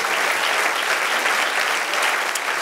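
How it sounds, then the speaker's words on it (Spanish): A church congregation bursts into dense, loud applause during a Spanish-language sermon, a continuous, even roar of many hands clapping throughout. "Denle un aplauso al Señor."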